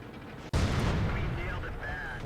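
A heavy tank's cannon fires once with a sharp, loud blast in World of Tanks, fired from an IS-3 Tier 8 heavy tank, followed by a long rumbling decay with faint mechanical noise.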